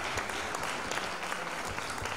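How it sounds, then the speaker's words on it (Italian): Audience applause welcoming a poetry reciter at an Italian cultural event on environment and legality, a dense, even wash of clapping from a crowd, steady and uninterrupted. "Accogliamola con un applauso."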